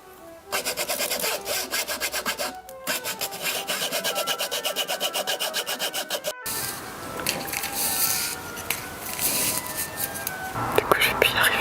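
A tool pierces holes through each section of a handmade book for binding, a rapid rhythmic rasping like fine sawing, pausing briefly and then continuing more irregularly, with soft speech and handling noises close by.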